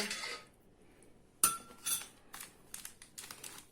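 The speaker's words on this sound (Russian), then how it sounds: "Тщательно перемешиваем это все." A spoon stirs sugar and salt in a bowl for pampushka dough, with soft close scraping and a sharp clink against the bowl, then a quick run of light tapping strokes.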